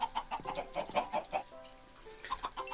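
Chickens on a Minecraft Skyblock island give a rapid series of short, bright clucks, about a dozen in an uneven rhythm, fairly close and moderately loud, with a brief pause before a few more clucks at the end.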